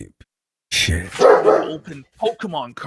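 A dog barks in a few sharp bursts close by, overlapping with excited, laughing talk from people in the room.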